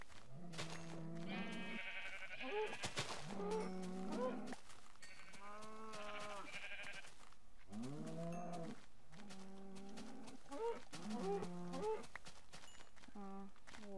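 Sheep bleating in the Minecraft video game, with cows mooing among them: a steady run of overlapping bleats and moos repeating across the whole stretch over low background noise.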